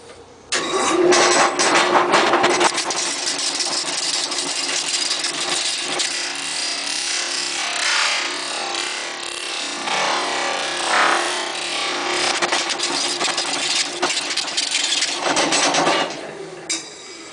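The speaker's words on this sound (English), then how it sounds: "But I'm going to start off with my roughing gouge. It's a very cheap Harbor Freight roughing gouge, and let's get it rounded up." A cheap Harbor Freight roughing gouge bites into a spinning wooden bowl blank on a lathe, giving a loud, continuous rough scraping and rumbling roar that swells and eases over about fifteen seconds before stopping.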